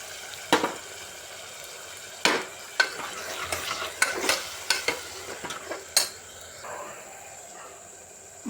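Tomatoes and ginger garlic paste sizzling in a pan for an empty salna, with a spoon scraping and stirring in irregular strokes over a steady fry, close up and without talk.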